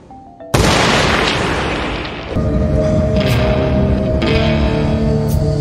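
A single loud pistol shot fired in a tense Peaky Blinders scene, a sharp boom with a long echoing tail, followed by a steady low tonal drone of background score.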